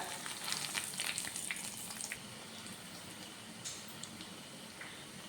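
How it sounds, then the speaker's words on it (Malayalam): Potato and bread snacks fry in hot oil over a medium flame, a soft, steady sizzle with scattered crackles and pops, busier at first and then settling, with no talking. "ഇനി ഇത് ഓരോന്നും ഇട്ട് ഒന്ന് ഫ്രൈ ചെയ്തെടുക്കാം"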